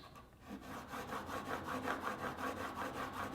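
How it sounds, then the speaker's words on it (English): A blade is drawn with very light pressure across a 2000 grit diamond sharpening stone, giving a steady, close, quiet rasping stroke repeated in an even rhythm with no talking. "Now I always go really light on the 2000, on the highest grit stone, really light pressure."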